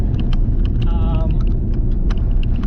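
A vehicle rolls along a dirt outback track with its tyres let down, giving a loud, steady close rumble and road roar throughout, with a brief tonal whine partway through.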